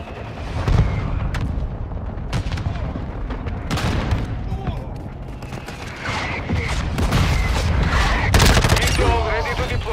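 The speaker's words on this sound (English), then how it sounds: "Mortar strike inbound." Call of Duty: Modern Warfare 2 mortar strike killstreak: dense, loud volleys of game explosions and rapid gunfire roll continuously, with booming impacts throughout and occasional game radio voices mixed in.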